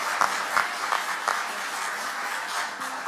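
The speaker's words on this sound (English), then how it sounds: "I think they all deserve a fantastic round of applause for their work" An audience at an agri-food debate final applauds the debate teams, with moderate, steady clapping and a few sharper claps standing out over the wash.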